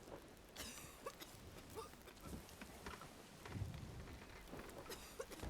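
Thunderstorm in the pirate game Sea of Thieves: steady rain hiss with low thunder rumbles swelling and fading throughout, fairly quiet, with no talking.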